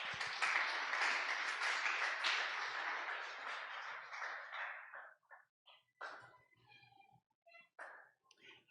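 Strong church-congregation applause, a dense wash of many hands clapping that holds loud for several seconds, then thins into scattered claps and fades out.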